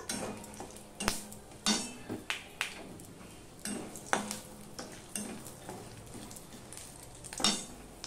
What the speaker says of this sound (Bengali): গোটা গরম মশলা ফোড়নে দিয়ে দিলাম।